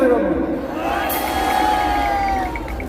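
A large crowd cheers and shouts with joy at an outdoor political rally, a steady roar of massed voices with whoops rising over it, continuous and fairly loud for a few seconds.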